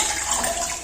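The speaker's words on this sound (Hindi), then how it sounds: "फिर उसके बाद इसमें पानी चला देना है" Tap water running and rinsing during kitchen cleaning, a short steady splashing stream close to the listener with no talk.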